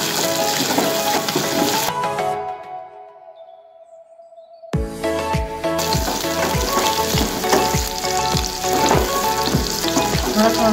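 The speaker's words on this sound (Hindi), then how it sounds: "हम लहसुन को जो है वो ब्राउन करेंगे।" Garlic and green chillies fry in hot oil with a loud, crackling sizzle that drops to near silence briefly, then bursts back with vigorous spattering and stirring scrapes.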